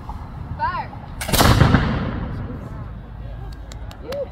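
A single ceremonial rifle volley fired at the Bunker Hill Monument in Boston, one sharp loud crack that booms and decays over a second or two, with voices briefly heard before and after.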